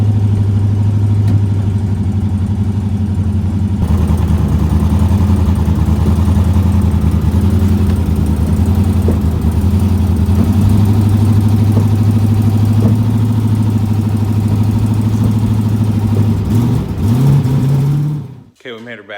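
An SBE Mustang VS88 race car engine idles loud and close with a steady, lumpy drone, rising briefly near the end before cutting out abruptly, while someone talks over it.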